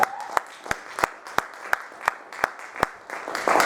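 A church congregation claps for the Lord in a steady, even rhythm, one sharp clap about every third of a second, with crowd sound under it.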